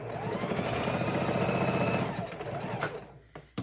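A sewing machine stitches a fabric soup bowl cozy in a quick steady whirring run, close and clear, then stops and leaves a few faint handling clicks.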